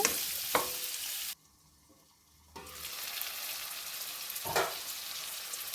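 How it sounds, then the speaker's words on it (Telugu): Onions, drumstick pieces and potatoes sizzle in a hot pan, a close crackling hiss that drops out abruptly for about a second before resuming, with a couple of sharp stirring clanks. "ఫస్ట్ ఆనియన్స్ ఇంకా ములక్కాడలు బాగా ఫ్రై చేసిన తర్వాత ఇందులోనే పొటాటోస్ కూడా యాడ్ చేద్దాము."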